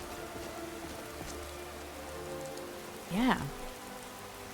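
Steady rain patters across a modded Skyrim game landscape, a constant soft hiss throughout, with a short spoken word near the end.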